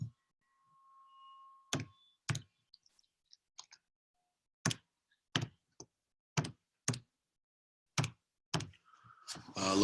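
Calculator buttons being pressed one at a time, a series of close, sharp clicks spaced irregularly with short quiet gaps between them.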